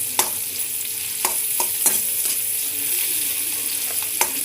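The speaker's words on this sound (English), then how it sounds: "Now I'll put the chopped onions and saute them" Chopped onions sauté in hot oil over medium-high flame, a continuous close sizzle broken by occasional stirring clacks, no talking.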